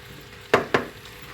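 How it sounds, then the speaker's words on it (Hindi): Carrots, peas and potatoes with spices are stirred in a pan, and a utensil knocks against the pan twice over a faint sizzle. "इसे हम अच्छी तरीके से मिक्स कर लेंगे चलाकर"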